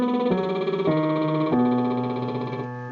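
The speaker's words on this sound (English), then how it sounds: "still sticking with the lip trill." Tenor lip-trill vocal warm-up on a 1-3-5-8-5-3-1 arpeggio spanning an octave, heard here as steady sustained pitches stepping downward, clear and close with no speech.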